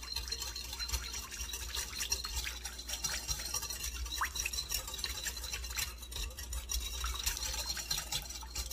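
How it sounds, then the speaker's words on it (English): A whisk is worked briskly through salad dressing in a bowl for a mandarin ramen noodle salad, giving a continuous close scraping and swishing rhythm throughout with no talk. "we're just gonna whisk this all together"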